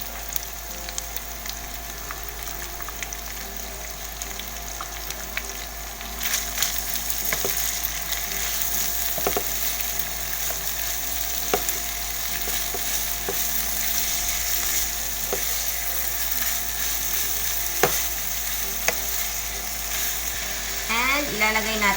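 Carrots and beans fry and soften in a pan for lumpiang hubad, a steady close sizzle with scattered sharp clicks and scrapes from stirring, rising slightly partway through.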